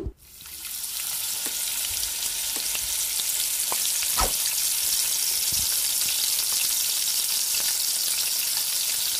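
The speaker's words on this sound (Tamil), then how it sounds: "ஒரு பேனில் தேவையான அளவுக்கு எண்ணெய் ஊற்றிக்கிறேன். அதில் வந்து இந்த ஒரு ரிங்காக போட்டு பொரிக்கிறதுக்கு போடுறேன்" Squid rings fry in hot oil in a pan, a steady loud sizzle that holds throughout after a brief opening clatter, with occasional soft pops and no voices.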